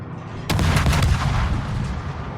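A loud naval gun salvo booms from a battleship in a naval combat video game, one heavy blast with a rumbling tail that fades over two seconds.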